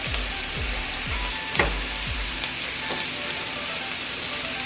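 Mushrooms, onions and peppers fry together for a chicken and shrimp hibachi, giving a steady close sizzle with a few soft low knocks from the pan early on.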